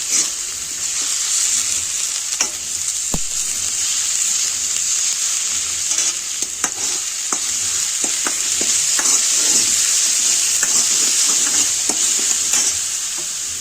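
Spices such as turmeric and kitchen king masala sautéing for pav bhaji in a hot pan, a constant oily sizzle broken by sharp scrapes and taps of a spoon stirring against the metal.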